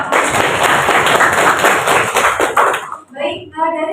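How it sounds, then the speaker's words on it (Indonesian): Classroom applause during a vocational school lesson in Jakarta: a few seconds of brisk, fairly close clapping from students, stopping abruptly, followed by a voice speaking. "Tepuk tangan dulu"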